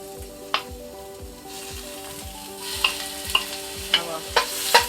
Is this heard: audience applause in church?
no